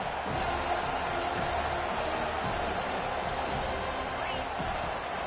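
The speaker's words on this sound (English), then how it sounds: "This crowd bringing the energy and noise early." College football stadium crowd during a game against FSU, a steady, distant roar of many voices with scattered shouts, fairly quiet and uniform throughout.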